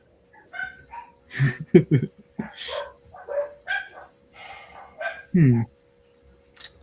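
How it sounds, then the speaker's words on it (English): Dogs bark, yelp and whine in excited bursts at close range, mixed with people talking throughout. "the dogs are freaking out"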